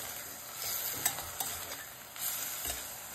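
Fenugreek leaves fry in a pan, a steady sizzle with a few scrapes and taps as a spoon stirs them, close and fairly quiet, no voices.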